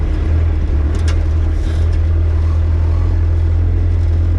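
A diesel right-hand-drive Jeep TJ Wrangler engine answers light throttle with a loud, steady low drone that swells slightly, heard from inside the vehicle.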